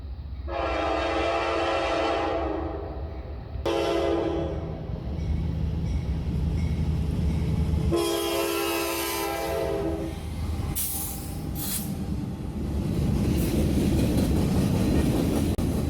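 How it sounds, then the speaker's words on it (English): A Norfolk Southern mixed freight led by a Dash 9 doubleheading with a GP38-2 on the Lehigh Line: loud, drawn-out horn blasts in several bursts over a continuous heavy rumble of rolling wagons and wheels. "A Dash 9 is doubleheading a mixed freight with a GP 38-2"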